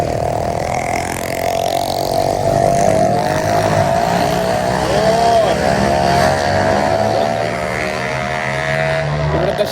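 Motorcycles pass along a busy, noisy street in Guatemala, heard from the roadside as a loud continuous engine drone that rises and falls in pitch as bikes come and go, with no clear speech.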